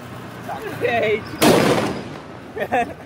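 A Diwali firecracker bursts with one sharp, loud bang, followed by a smaller crackle, with people's voices faintly around it outdoors.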